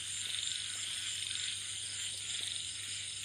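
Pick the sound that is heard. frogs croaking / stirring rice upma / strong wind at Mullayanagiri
frogs croaking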